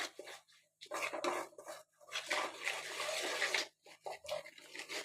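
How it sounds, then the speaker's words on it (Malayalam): A spoon scrapes and clinks in a bowl while spices are mixed into a homemade ambazhanga (hog plum) pickle, coming in close, irregular bursts separated by brief pauses, with no voices. "എന്നിട്ട് ഇത് നന്നായിട്ട് ഇളക്കുക."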